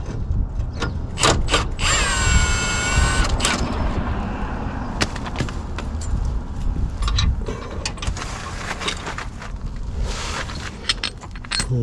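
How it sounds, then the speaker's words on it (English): Wrench working a 19mm nut on a first-generation Toyota Tacoma differential drop kit, giving steady metallic ratcheting clicks and clanks with a brief squeal near the start, close up and continuous with no talking. "Got our 19mm wrench on the nut."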